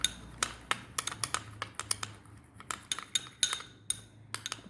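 A spoon clinks repeatedly against a bowl while half a tablespoon of coffee powder is stirred into a homemade eye mask paste, giving quick, irregular metallic ticks close by with no talking.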